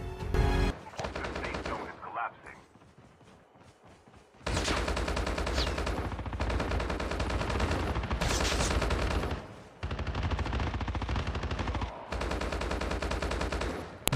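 Automatic weapon fire in Call of Duty Mobile battle royale: long, loud, sustained bursts of rapid gunshots separated by brief pauses, with a quieter stretch near the start.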